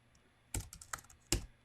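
Keys on a computer keyboard clatter in a short burst of about four sharp, close clicks, with one louder stroke near the end, and no voices.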